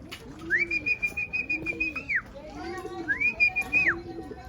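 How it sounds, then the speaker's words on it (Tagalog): Racing pigeons coo close by in soft, low, rolling phrases, repeated several times, while a clear whistle rises and falls twice over them. "Ayan mga kalapatids."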